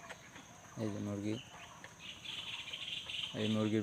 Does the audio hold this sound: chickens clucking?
yes